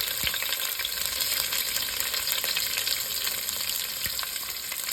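Capsicum pieces fry in oil in a pan for an Indian-spiced burrito filling, giving a steady loud hiss with scattered crackles and faint stirring taps and no voices.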